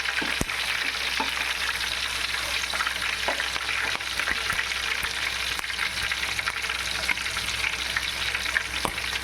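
Ingredients for a Rayalaseema-style mutton leg piece biryani fry in hot oil with a dense, continuous crackling sizzle, broken by repeated light clicks and scrapes of stirring.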